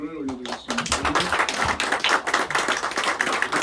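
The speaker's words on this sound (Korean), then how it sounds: "우리 하나님께 영광의 박수를 올려드리겠습니다." A church congregation claps during a Sunday morning worship service, a dense run of hand claps of fairly even strength following a brief sung or spoken phrase at the start, with voices faintly audible underneath.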